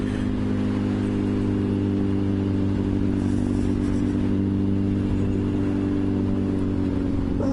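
Kawasaki ZXR 750 H1 motorcycle engine running hard at full throttle, a steady loud mid-pitched drone with strong harmonics and clatter, held close and continuous throughout.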